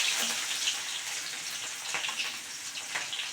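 Chopped onion sizzles and crackles steadily in hot oil with cumin seeds, a close, continuous frying hiss with small pops.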